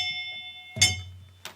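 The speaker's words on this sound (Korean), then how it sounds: "자, 종소리 한번 들어보세요." A cracked-sounding bell gives two short, dull, harsh strikes over a low steady hum, each ending quickly instead of ringing out clearly.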